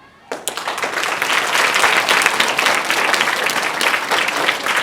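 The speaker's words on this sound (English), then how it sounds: "Please give them a big round of applause." School assembly audience breaks into loud applause from a class of children, starting abruptly and holding a dense, steady roar of clapping throughout.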